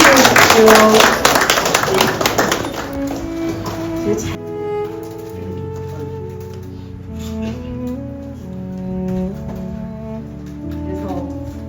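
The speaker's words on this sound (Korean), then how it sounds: "박수 한번 주세요." An audience claps enthusiastically to welcome a lawmaker at a religious leaders' campaign committee meeting; loud, dense applause for about four seconds, then quieter sounds beneath a background tone.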